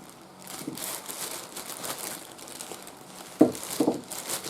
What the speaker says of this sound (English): Stick the can inside of a plastic bag and just loosely hold it shut.